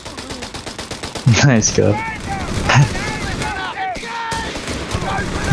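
Bursts of gunfire and machine-gun fire from a Company of Heroes 3 battle rattle out in clustered volleys, loud and close, with someone talking over the combat.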